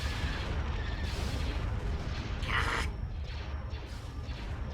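Capital ships and transports trade gunfire in a space strategy game, a steady busy wash of shots and booms with a brighter burst near the middle, no pauses.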